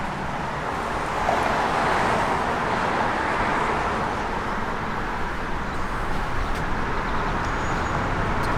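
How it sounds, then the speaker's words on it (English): Steady, even broadband rumble of a 1965 Ford Mustang Fastback engine idling, heard outdoors with some wind, continuous and moderately loud with no voices over it. "Car's got great sound."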